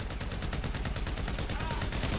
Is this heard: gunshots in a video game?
yes